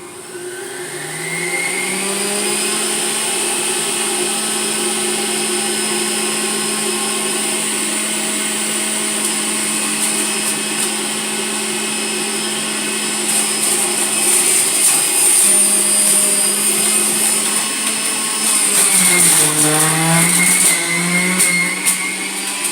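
Electric juicer grinding organic apples, a loud steady motor whine that holds for about twenty seconds, then bogs and dips as more fruit is pushed in before climbing back up to speed; no talking.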